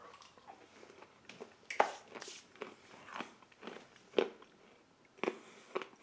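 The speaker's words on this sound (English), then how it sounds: "Those banana chips, very crunchy." Crunchy banana chips from an MRE fruit mix being chewed close up, a series of sharp, irregular bites and crunches with quiet pauses between them.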